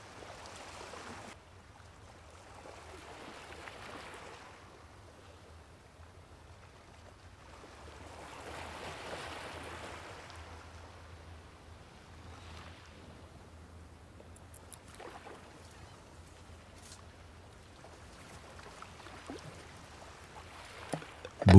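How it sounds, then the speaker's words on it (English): Soft water sounds, gentle lapping and flowing like small waves, come and go in slow surges against a quiet background, faint and unhurried throughout with no voices. "Needs lots of water sound."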